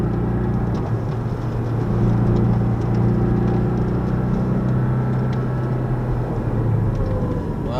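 A Porsche 718 Cayman engine drones steadily as the car is driven on a track. Throttle is gently reapplied, so the hum builds only slightly and stays even throughout, under the cabin's road noise.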